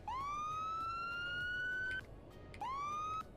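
A video game police siren wails in two rising sweeps, the first long and steady, the second shorter after a brief pause, loud and close.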